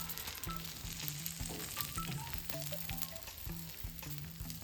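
Masala dosa sizzles and fries on a hot pan over a medium flame with butter or ghee and red chutney, a steady soft crackle with faint scraping and clinks in a quiet kitchen.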